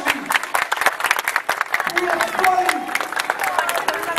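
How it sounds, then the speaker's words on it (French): An audience at a Kita Nago event in Cavaillon, Haiti, welcomes artists with brisk, close clapping, and voices call out and talk over the applause in the second half. "moi je voulais que nous accueillions artistes avec quelques grands applaudissements"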